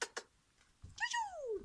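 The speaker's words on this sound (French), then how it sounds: "mais il y a le chat" A domestic cat lets out a clear meow indoors, preceded by a couple of short soft sounds, the call rising then gliding down over about a second, fairly close and alone.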